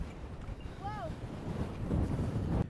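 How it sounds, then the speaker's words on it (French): Gusty wind buffets the microphone in a constant low roar, with a brief whistling tone rising and falling partway through. "le vent c'est ouf"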